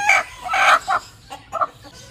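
A broody hen clucks in a series of close, agitated bursts, a few quick clucks, a pause, then more, as she grows annoyed when someone comes near her nest.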